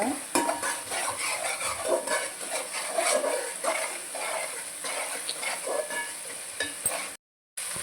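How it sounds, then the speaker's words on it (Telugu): A mint and tomato paste fries in oil while a spoon stirs and scrapes the pan over the sizzle, loud and close, with a brief dropout near the end. "పుదీనా టమాటా పేస్ట్ వేసుకున్నాం కదండి ఇది కూడా ఆయిల్ మంచిగా ఫ్రై అవ్వాలి మొత్తం ఆయిల్ తేలాలన్నమాట"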